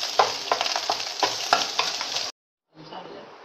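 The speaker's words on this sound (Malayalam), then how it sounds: "നമുക്കൊരു മീഡിയം ഫ്ലെയിമിലേക്ക് മാറ്റിയിട്ട് നല്ല തരി തരിയായിട്ട് മുട്ട വറുത്തെടുക്കാം" Egg sizzles in a hot pan over medium flame while a utensil scrapes and stirs it into crumbles in repeated strokes; the sound cuts out briefly, then quieter frying resumes.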